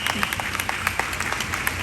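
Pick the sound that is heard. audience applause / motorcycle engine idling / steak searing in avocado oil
audience applause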